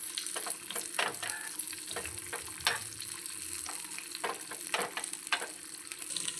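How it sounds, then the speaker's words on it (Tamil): Cashews and raisins frying on a low flame give a soft, steady sizzle with occasional crackles and light stirring clicks, faint and close, with no voices. "சிம்மிலே வச்சு ஃப்ரை பண்ணிக்கலாம்."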